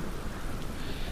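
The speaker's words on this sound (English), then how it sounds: "Ooh, it's raining." Rain in the video game Morrowind, a dense, even hiss of falling drops, steady and soft throughout a brief stretch with no voices.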